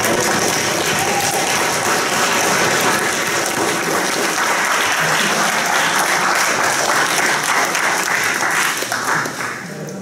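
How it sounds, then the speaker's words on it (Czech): Enthusiastic crowd applause at a fan convention karaoke party and talk, loud dense clapping sustained for several seconds before easing off near the end, with some voices mixed in. "potlesk pro Piňho."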